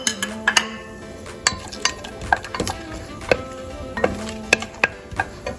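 Whole spices dropped into hot oil in a pan for Kerala-style chicken stew sizzle steadily, broken by a series of sharp clicks and taps of a utensil against the pan, close and clear with no talking.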